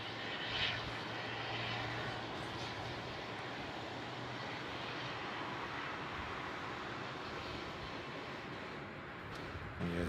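A jet airliner departing Melbourne Airport for Sydney, a continuous distant roar of engines with a low steady drone and broad hiss, sustained without speech.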